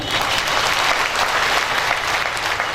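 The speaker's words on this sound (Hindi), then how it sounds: "बजाय ताली" Dense, sustained audience clapping fills the room at a steady loudness, many hands at once, during a Brahma Kumaris stress-relief camp session in Munger, Bihar.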